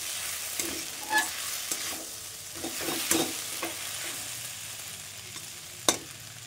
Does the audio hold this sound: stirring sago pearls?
yes